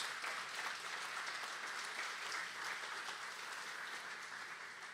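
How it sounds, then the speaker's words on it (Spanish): A church congregation applauds throughout, a steady, fairly faint wash of many hands clapping at once without a pause, and no voices come through. "Vamos a dar un aplauso a Jesús."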